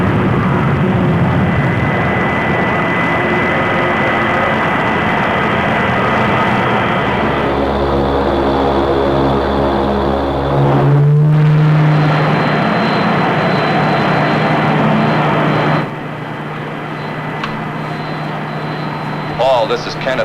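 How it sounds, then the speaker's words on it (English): An orbit jet spacecraft comes in to land in the Rocky Jones Space Ranger science-fiction series, a continuous roaring engine drone with a rising whine midway, running under people talking. "The orbit jet is in the process of landing."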